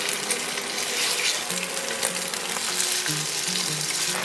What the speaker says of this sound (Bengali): ম্যারিনেট করা বিফগুলোকে ভাজার জন্য দিয়ে দিচ্ছি একটু অয়েল।